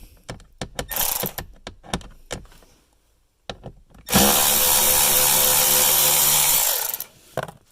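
A power screwdriver backs T25 screws out of an interior panel on a Volvo XC90: short taps and clicks first, then a steady loud whirring run of about three seconds that stops abruptly.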